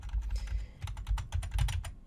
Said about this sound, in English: just keep hitting those arrow keys until I found the spot I like